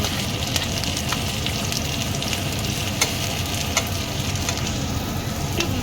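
Chopped onions fry in hot oil for a chicken moharani dish, giving a steady, close sizzle with scattered sharp crackles and pops throughout, with no talking.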